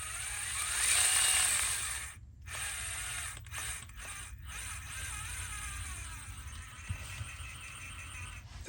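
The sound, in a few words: RC crawler gearbox gears skipping teeth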